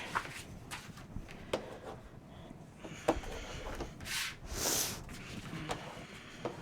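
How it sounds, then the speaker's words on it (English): Scrapbook album pages of a file folder album being burnished by hand, soft close rubbing and scraping strokes with occasional light taps, quiet and continuous. "now we're gonna burnish"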